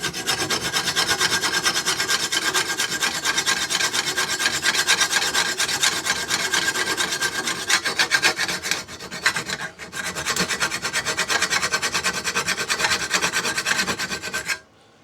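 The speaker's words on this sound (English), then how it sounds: "If you have a really good file, you can literally, this is called draw filing." A mill bastard file is draw-filed steadily along a steel mower blade, giving a continuous close rasping scrape for about fourteen seconds with a brief pause partway through and no voices.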